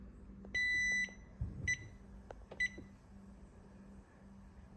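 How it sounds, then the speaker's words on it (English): An oven timer beeps while vegan chocolate chip cookies bake: one longer tone, then two short beeps, with soft kitchen clicks and handling noises around them in a quiet room. "And you put it on a timer."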